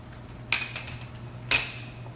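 A utensil working bacon and green onions into a dip, giving two bright metallic clinks against the bowl about a second apart over a low, steady background hum, with no voices.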